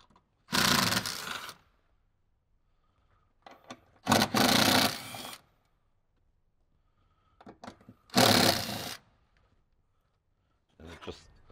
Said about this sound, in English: Then we can grab our 10 millimeter socket, get those three bolts out, get this amp completely removed.